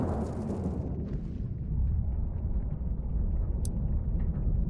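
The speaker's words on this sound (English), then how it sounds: "A heavy cannon" A heavy cannon firing in a shooter video game: a deep, continuous roaring rumble of heavy fire with a dense low-end boom, steady and loud, with no talking.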